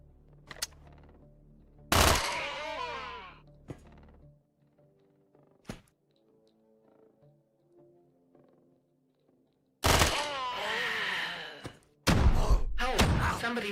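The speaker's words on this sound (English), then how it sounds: "That's a shotgun." Shotgun blasts in Quasimorph: a few loud, sharp shots with long rattling tails, one near the start, a pair later on, and short thuds between them over a quiet, humming background.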